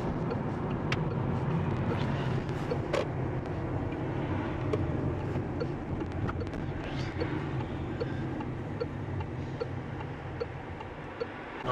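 A car engine hums steadily through a driving lesson at a roundabout, a low continuous drone with faint ticking, heard from inside the car.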